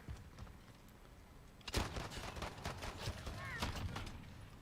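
A video-game shotgun built to look like an AR rifle fires a loud blast, then several more shots crack in quick succession, with steady game noise underneath.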